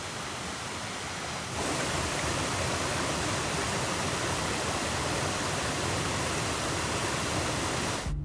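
Steady roaring rush of a waterfall on the Oirase Stream in Aomori, Japan, a dense broadband wash that swells slightly louder after a moment and continues without pause.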